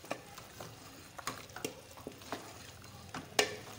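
Aloo keema with potatoes and peas being stir-fried in a pan: a faint background sizzle broken by intermittent scraping stirs, with one sharper clink near the end and no voices.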